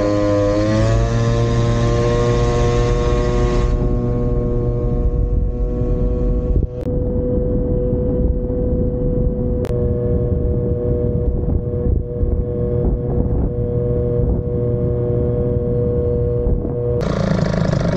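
A 50cc scooter fitted with a Malossi kit and variator runs on a road, its buzzing two-stroke engine loud and steady with rising harmonics, plus wind rumble, and no one speaks.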